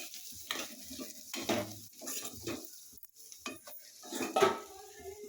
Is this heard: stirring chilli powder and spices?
yes